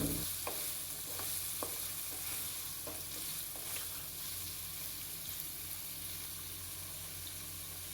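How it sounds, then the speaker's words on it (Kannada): Paneer shallow frying in a pan with Kashmiri red chilli powder gives a steady close sizzle with a few soft scraping stirs early on, then settles into an even hiss with no voices. "ಸರಿಯಾಗಿ ಮಿಕ್ಸ್ ಮಾಡಿ ಹಾಗೂ ಫ್ರೈ ಮಾಡಿಕೊಳ್ಳಿ. ಡೀಪ್ ಫ್ರೈ ಅಲ್ಲ, ಇದು ಶಾಲೋ ಫ್ರೈ ಮಾಡಬೇಕು."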